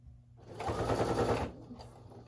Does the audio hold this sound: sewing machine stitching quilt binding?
yes